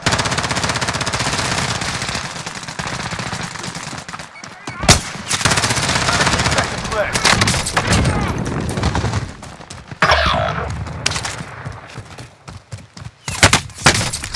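Call of Duty Warzone payload-mode gunfire: sustained automatic bursts and rapid single shots, loud and close, broken by brief silences and clustered cracks near the end, with radio-style voices talking between volleys.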